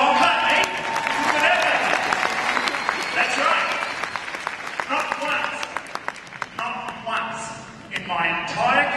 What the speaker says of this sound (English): Go on, clap.